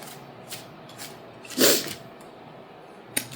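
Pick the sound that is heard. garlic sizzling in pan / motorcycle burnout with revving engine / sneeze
sneeze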